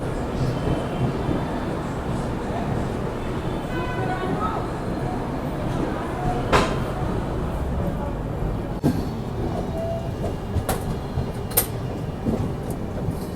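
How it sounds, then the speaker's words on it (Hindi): A passenger train pulls out of Raipur Junction, its steady rumble and clatter of wagons running continuously at close range, with occasional sharp clanks and squeals cutting through. "तो अभी रायपुर जंक्शन से तो अपनी ट्रेन निकल गई है"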